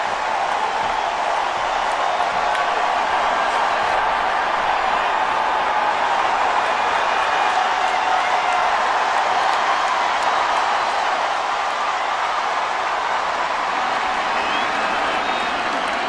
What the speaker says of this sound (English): Listen to this crowd as Danny Etling takes the field for the first time.